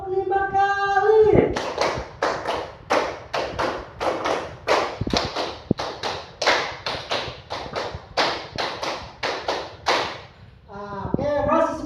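A group of people claps hands in unison, a run of about twenty sharp claps in a counting rhythm between voices counting aloud, loud and close in a classroom.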